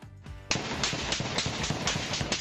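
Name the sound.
barrage of gunfire in news footage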